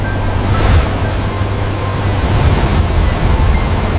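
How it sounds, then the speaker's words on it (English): Ocean waves crash against black rocks in a continuous rumbling roar of surf, loud and close, with gusty wind buffeting the microphone and a heavier surge early on. "white waves explode against black rocks, creating the rumbling roar they had heard"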